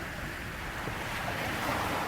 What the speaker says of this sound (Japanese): すでに潮騒のメロディーが鳴っていた。